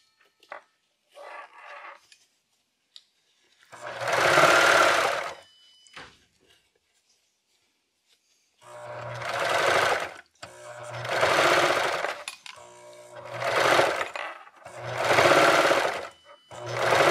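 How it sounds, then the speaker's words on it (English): A serger overlock machine stitches a quilt binding seam in loud bursts: a couple of short runs, then a long steady whir followed by several back-to-back runs with brief pauses between them, with no talking. "Just gonna stick it back into the serger, and I'm just gonna finish up that seam."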